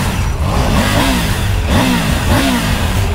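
A new motorcycle engine revs steadily and loudly up close, with a few rising pitch swells over a constant rumble and no talking.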